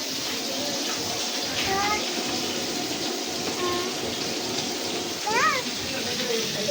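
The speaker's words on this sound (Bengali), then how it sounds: "বাইরে একটু একটু বৃষ্টি পড়তেছে" Light rain falls outside as a steady, soft hiss throughout, with children's voices faintly in the background.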